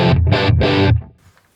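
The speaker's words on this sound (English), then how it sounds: "You can already hear that amp is full and crunching" Three thick, crunchy distorted guitar chords through a plexi amp ring out in quick succession, loud and full, then decay into a faint tail.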